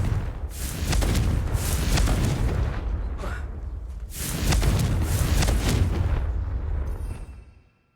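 Two heavy rumbling blasts from the Confringo fire spell in Hogwarts Legacy, loud and close, each rolling on for a couple of seconds before the second fades out.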